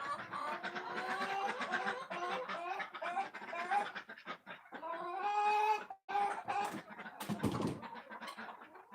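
Small quail on a farm chirp and cluck in a busy, overlapping chorus close by during farm chores, with a brief sharper flurry near the end.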